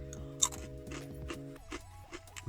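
Crispy fried battered squid snack is bitten and chewed close up, with a series of sharp crunches over a background of steady tonal hum, quiet overall.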